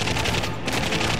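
Dense, continuous gunfire in The Darkness II, a loud rattling barrage of rapid shots that fills the whole short moment without pause or voices.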